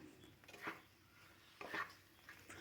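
A spatula stirs a cabbage curry with fried egg, red chili powder and chopped coriander in a pan over medium flame, giving two soft, brief scraping clinks about a second apart, quiet and without talk.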